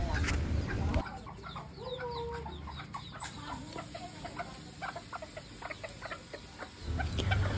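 Serama chickens cluck softly nearby with scattered chirps and peeps, a low hum of background noise underneath.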